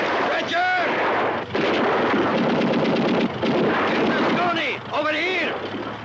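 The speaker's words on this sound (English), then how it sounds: "Get more ammunition. Keep on firing." Gunfire and artillery blasts boom through a wartime battle scene, dense and loud throughout with shouted voices and commands over the continuous barrage.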